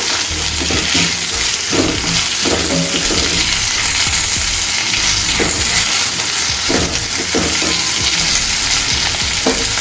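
Ivy gourd (dondakaya) fry sizzles steadily in a pan as it is stirred, a close, continuous frying hiss broken by repeated soft scrapes of the spoon.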